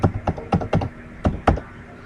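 Keystrokes on a computer keyboard while a password is entered at a login screen: about six separate, fairly close taps in an uneven rhythm with short gaps, no voices.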